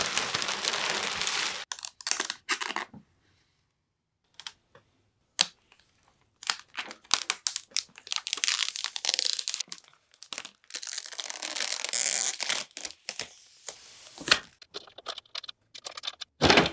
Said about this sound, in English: removing the plastic.